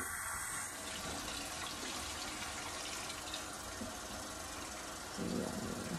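A soft stream of water runs steadily from a tap in a continuous, faint hiss, with a brief low clatter near the end.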